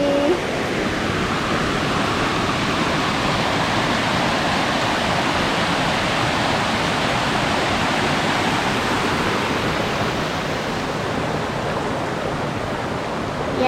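Cold, clear mountain stream water at Ban Pa Miang village in Lampang, heard as a loud, steady, close rushing and splashing flow that runs continuously without a break.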